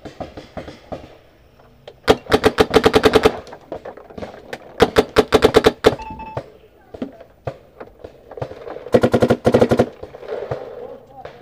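Luxe TM40 paintball marker with an Apex barrel fires rapid bursts of sharp shots, three distinct strings spaced across an outdoor paintball game, close and loud, with players talking between volleys.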